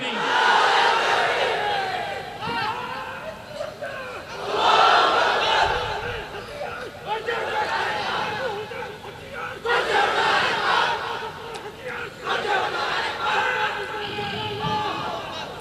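A large crowd at an outdoor Islamic sermon gathering shouts the takbir in unison, loud massed voices rising and falling in repeated waves of chanting over about fifteen seconds.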